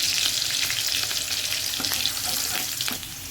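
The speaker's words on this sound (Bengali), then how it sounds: "লঙ্কাটা এখানটায় দেবো, জাস্ট লঙ্কাটা একটু ভাজা হবে" Chilli and chowmein stir-fry in a hot pan, a steady loud sizzle broken by scraping stirs, heard close with no talking.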